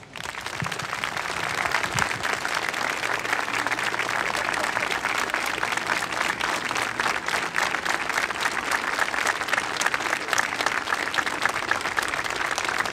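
Crowd applause at an outdoor rally against violence toward women in Angers, November 2019: steady, dense clapping sustained throughout, loud and continuous with no gaps.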